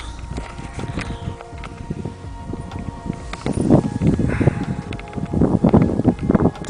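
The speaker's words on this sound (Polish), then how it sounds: "ale dzisiaj wiatr jest" Gusty wind buffeting the microphone in low rumbling bursts out in a field, growing stronger toward the end, with faint rustling underneath.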